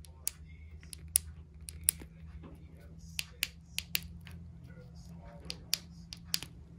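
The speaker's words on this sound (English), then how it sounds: "This rubber casing with all these little metal buttons right here. You can kind of hear them click." Small metal buttons set in the rubber casing of a Ford Edge key fob give off a scattering of faint, sharp clicks at irregular intervals over a low background hum.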